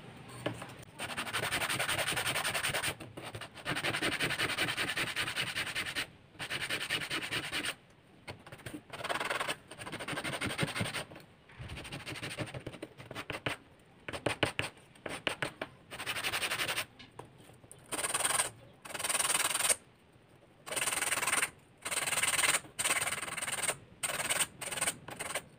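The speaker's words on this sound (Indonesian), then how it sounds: "setelah itu kalian amplas ya" Sandpaper rubs a miniature truck filter part by hand in repeated short scratchy strokes, close up, in uneven bursts separated by brief pauses.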